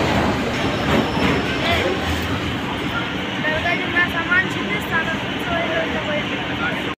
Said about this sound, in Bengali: দেখো আমাদের ট্রেন এখন ঢুকলো খিদিরপুর স্টেশন।